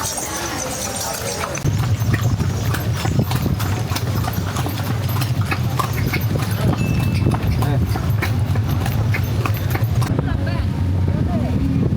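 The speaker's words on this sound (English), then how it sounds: "so we get a horse and carriage here" Horse and carriage on Gili Trawangan, hooves clip-clopping in a steady close rhythm on the road after a brief start, with a person talking over the trotting.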